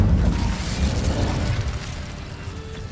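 A fiery Incendio spell bursts in Hogwarts Legacy, a loud roaring whoosh that opens strongly with a low rumble and then trails off into a softer crackling hiss.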